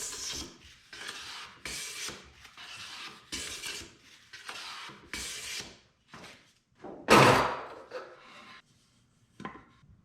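Rasp filing a taper into a wooden workbench part, a series of rhythmic rough scraping strokes with short pauses between them, close up, ending with a louder knock.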